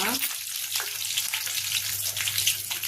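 Mustard seeds, cumin, dried chilli, curry leaves and a garlic clove sizzle in hot oil as a tempering for spinach dal, a steady close crackling hiss with faint popping throughout.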